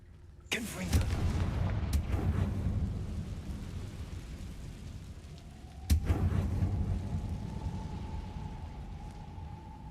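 Two heavy booming blasts from the Confringo blasting spell in Hogwarts Legacy, one near the start and another around midway, each rumbling and decaying over a dense game background.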